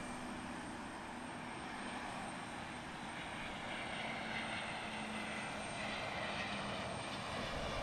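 An Allegiant airliner arriving at Portland International Airport, a steady distant engine roar that swells slightly louder toward the end, continuous and without talk.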